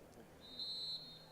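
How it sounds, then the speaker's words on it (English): Referee's whistle at a UPSL Georgia Premier Division soccer match, a single steady shrill blast of about 0.4 seconds signalling a foul, heard at moderate distance over crowd and ambient field noise. "And we get a whistle, foul given."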